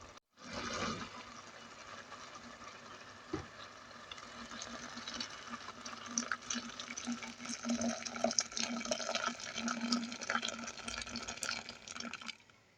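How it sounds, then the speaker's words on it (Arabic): Hot water is poured into a cooking pot of seasoned stew, a steady close splashing and gurgling stream lasting several seconds, with a brief knock near the start. "أزودها بقى مية سخنة"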